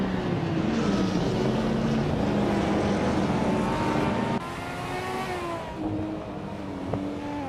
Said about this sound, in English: Jumbo is driving a 1993 Ford Mustang